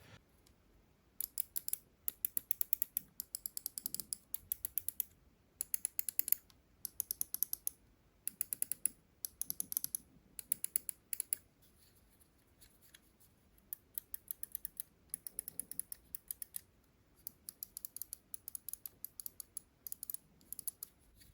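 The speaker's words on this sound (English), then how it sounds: "You could hear that Ultralight X has softer sound of switches on both left and right buttons" Rapid series of sharp, quiet clicks in quick bursts with short pauses from the Omron switches of a Finalmouse Ultralight X gaming mouse, its left and right buttons pressed repeatedly, close up with no talking.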